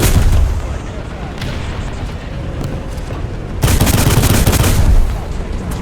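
Sd Kfz 140/1 autocannon firing in War Thunder: loud, dense bursts of rapid gunfire and booms running through the whole stretch, swelling sharply in the second half.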